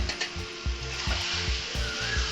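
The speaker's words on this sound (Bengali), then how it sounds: "এবার ভালো করে নাড়াচাড়া করে মাংসটা মিশিয়ে দেব।" Marinated mutton stirred into frying masala for a village-style curry: a steady oily sizzle with rhythmic scraping strokes about every half second, close and continuous.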